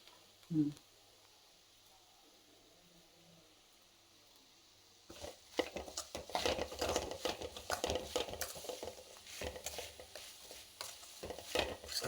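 Bitter gourd fry being stirred in a pan with salt and chili, a faint knock early on, then after a quiet stretch a continuous busy scraping and sizzling stir, close up and steady.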